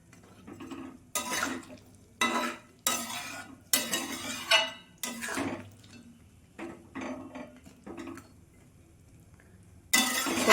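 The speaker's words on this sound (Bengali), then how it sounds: "বড়া ভাজাগুলো দিয়ে দেবো।" Fried chana dal fritters tipped into a potato curry and stirred, with a spoon scraping and clattering against the pot in a run of repeated strokes, close and fairly loud, under a low simmer.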